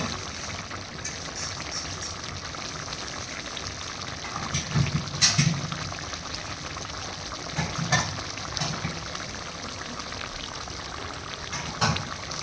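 Chicken and chopped tomato get stirred in a pan as juices release, making a continuous wet bubbling sizzle with periodic louder scraping swells from the spoon, close and without talk.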